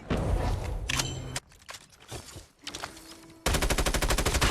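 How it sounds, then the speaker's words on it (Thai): Gunfire in Call of Duty Mobile aimed at a car: a loud burst of rapid automatic shots, a quieter stretch of scattered sounds, then another sustained rapid volley near the end. "ยิงรถก่อน"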